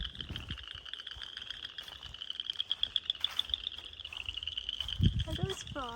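Outdoor chorus of frogs along a hiking trail, a rapid steady trill at moderate volume, joined near the end by a few low thumps and a brief voice.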